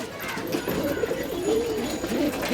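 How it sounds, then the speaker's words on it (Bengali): A green-necked pigeon kept on a rooftop coos close by in soft, rolling, repeated throaty phrases that carry through the short stretch with no talk. "এটা আমার সবুজ গলা কবুতর"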